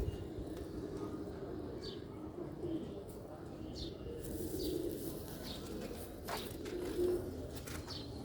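Pigeons cooing in a loft, soft low repeated coos rising every couple of seconds over steady background rumble and faint chirps, fairly close but quiet.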